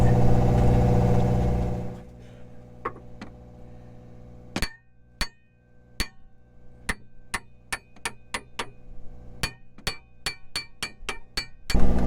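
Metal tapping on an anchor winch assembly with a tapper, out on the water: a first loud machine hum cuts out, then a string of sharp, ringing metallic clinks follows, a few spaced apart and then coming quicker and more regular.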